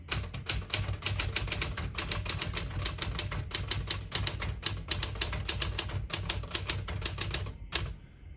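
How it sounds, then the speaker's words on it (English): A 1968 Smith-Corona Super Sterling portable typewriter is typed on at a quick, steady pace, producing dense, crisp mechanical key strikes in rapid bursts. The strikes are close and loud and stop at the end. "This is one of the most popular typewriters of all time."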